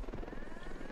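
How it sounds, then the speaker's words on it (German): An enemy helicopter in Ghost Recon Wildlands gives off a steady, dense rotor thump and engine drone, moderately loud and continuous throughout the short stretch, with no talking over it. "Feindlicher Heli!"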